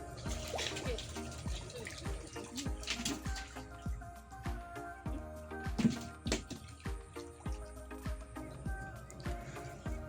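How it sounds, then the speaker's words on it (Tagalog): Water running and splashing as a catfish pond is drained outdoors, a steady trickle and gurgle with scattered drips and small splashes, moderately close, no speech. "dito po ay nagbabawas po ng tubig yung tatay ko"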